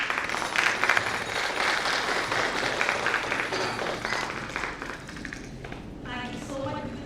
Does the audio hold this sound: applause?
yes